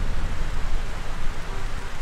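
Steady rain hisses in GTA San Andreas, with a low rumble that may be distant thunder, heard alone as a dense, even wash without voices.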